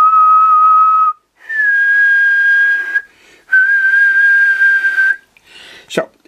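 High-pitched whistling picked up through a three-transistor electret microphone amplifier: three sustained steady tones, each a step higher than the last, separated by short pauses and ending in a brief click.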